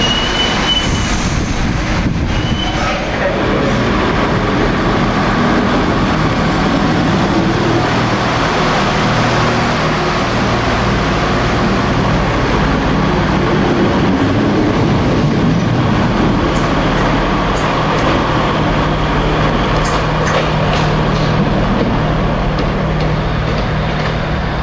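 British Rail Class 465 electric train running on track, heard from onboard as a loud, continuous rumble and wheel noise throughout with no talk.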